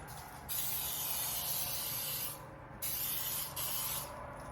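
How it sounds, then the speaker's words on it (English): Two bursts of aerosol cooking spray hiss close up into a casserole dish, the first about two seconds long, then a shorter second spray after a brief pause. "So you get your casserole dish, you're gonna spray it."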